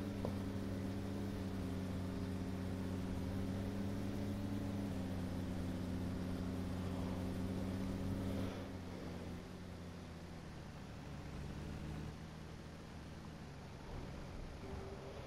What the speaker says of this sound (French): si vous sélectionnez le camion, vous pouvez entendre les freins moteurs ou les couper